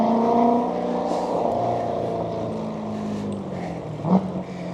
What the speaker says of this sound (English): Here's one of those guys with the loud car.